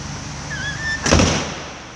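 Code-locked hotel pool door: a few thin electronic beeps, then a single abrupt thunk as the latch releases and the door swings, close and fairly loud, followed by fading room noise.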